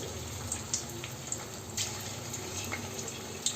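Chicken pakoda pieces fry in hot oil, a soft continuous bubbling hiss with scattered small crackles and pops, quiet and close, with no voices.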